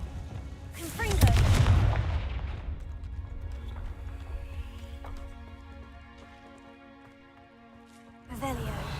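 A Confringo fire spell blasts in Hogwarts Legacy with a sharp booming burst, followed by a fading rumble over quiet game ambience, then a second blast strikes near the end.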